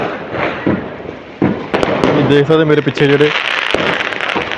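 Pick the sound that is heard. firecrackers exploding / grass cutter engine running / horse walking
firecrackers exploding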